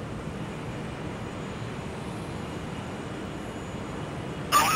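Steady, droning airplane engine inside Call of Duty: Modern Warfare 2, a constant low rumble filling the cabin with no gaps, ending in a short sharper noise.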